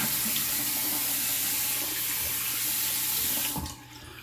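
Tap water runs steadily into a sink while rinsing off after a straight razor shave, a loud continuous splashing rush that cuts off abruptly near the end, leaving a quieter room.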